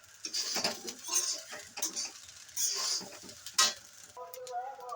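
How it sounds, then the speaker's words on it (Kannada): Egg rice mixed with coriander in a pan, with bursts of spoon scraping and clinking against the metal over a faint sizzle, close and intermittent, and a brief voice near the end. "ಇದನ್ನು ಕೊತ್ತಂಬರಿ ಹಾಕಿದ್ಮೇಲೆ ಚೆನ್ನಾಗಿ ಮಿಕ್ಸ್ ಮಾಡಬೇಕು"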